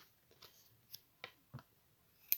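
Several short, crisp snips of scissors through paper, spaced irregularly over a couple of seconds, close and fairly quiet in a still room.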